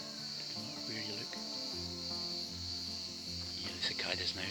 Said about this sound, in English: Yeah, the cicadas now, they're all starting their chorus.